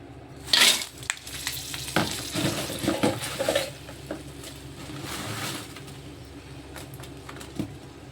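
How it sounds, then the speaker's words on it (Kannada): Dry red chillies for sambar powder are fried in oil with stirring, making a close sizzle and scraping clatter in busy bursts that ease off into a softer, steadier frying hiss. "ಎಣ್ಣೆ ಹಾಕ್ಕೊಂಡು ಹುರಿತಾ ಇದ್ದೀನಿ"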